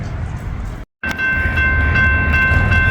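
A coal train rolls past on a railroad with continuous heavy rumble and rail noise, loud and close, with a steady tonal whine; the sound briefly drops out near the start before resuming.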